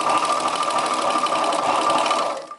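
A sewing machine runs steadily while stitching the shoulder seam of a chudidar top, a fast continuous whirr that cuts off abruptly at the end.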